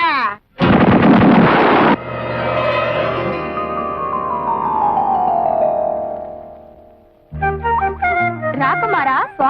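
In a Telugu comedy film scene, a coconut bomb sound effect bursts loudly, then a long falling whistle trails off. Brief musical notes follow.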